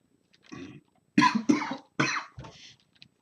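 Close, rough coughing comes in a run of four or five harsh bursts after a softer one, each separated by brief pauses.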